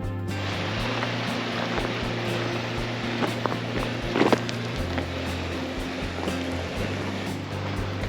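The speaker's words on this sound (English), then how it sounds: "And the creek is flowing," Three Sisters Creek in the Canadian Rockies flows beside a hiking trail as a steady broadband rush of water, with a constant low hum underneath and one brief louder splash or knock midway.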